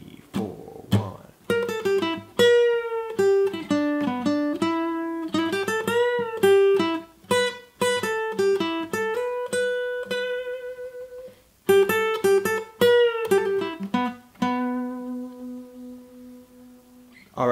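Acoustic guitar plays the opening sections of a song's intro solo, a steady stream of crisp picked single notes and short runs, close and clear, ending on a ringing held note, with no voices.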